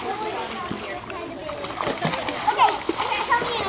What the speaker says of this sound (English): Swim to Daddy so I can get you on tape, Ethy.